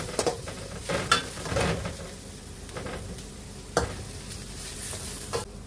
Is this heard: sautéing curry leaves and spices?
yes